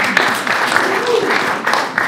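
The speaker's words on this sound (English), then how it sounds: "So we'll give ourselves a round of applause." Applause from a community audience at a village history presentation on Long Island, a steady wash of clapping filling the room for about two seconds with some voices mixed in.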